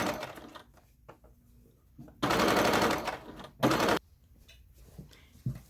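A sewing machine stitches down a fabric apron strap in two rapid mechanical bursts, one about two seconds long and a shorter one after, close and loud, with quiet handling noises between.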